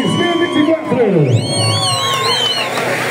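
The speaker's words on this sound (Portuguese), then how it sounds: "Os aplausos para Olhos d'Água, campeão rural 2024." Crowd applause and cheering for Olhos d'Água, 2024 rural football champions at the Ruralzão final in Taiobeiras, a loud burst of whoops and shouting with an announcer's voice over the celebration.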